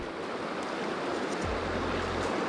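Broken, riffled pocket water on a trout river rushes in a steady, close broadband wash, and a low droning hum joins partway through.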